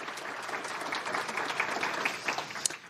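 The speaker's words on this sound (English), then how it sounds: "And so a round of applause, I think, for those that are bringing us that breakfast." At a power breakfast in the Park Hotel, the audience claps for the breakfast servers, a brief, steady patter of many hands at moderate volume with no voices over it.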